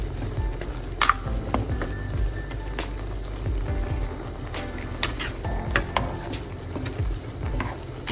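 A spoon stirs a cooking pot of boiling tubers after salt has been added, giving faint, irregular scrapes and sharp metallic clinks against the pot over low background noise.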